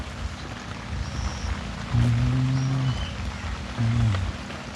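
Steady rain patters throughout, with two low, droning tones breaking in briefly over it, one longer and one shorter.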